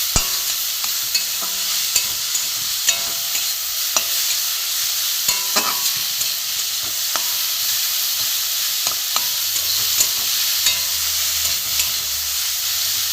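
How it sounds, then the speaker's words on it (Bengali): Grated carrot frying in ghee over low heat, a steady close sizzle with frequent scraping stirs and light clicks from the pan throughout, no voices. "এবার আমি এই গ্রেট করা গাজরগুলো আমি ঘিয়ে ভেজে নেব"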